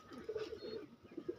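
Pigeons coo softly in a quick run of low, murmuring notes, faint and brief.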